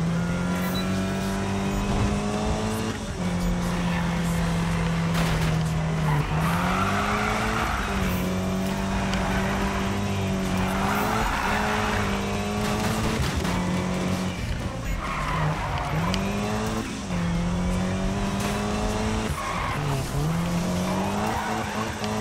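Cars drifting in the video game Need for Speed (2015), a loud continuous engine roar with long squealing tire slides rising and falling over and over, close and sustained throughout.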